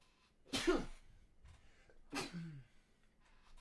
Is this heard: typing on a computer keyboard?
no